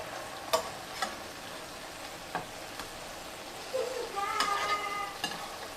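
Bacon cheeseburger patties flipped in a pan, a faint background sizzle broken by a few sharp spatula scrapes and clacks, with a louder burst of frying after the turn.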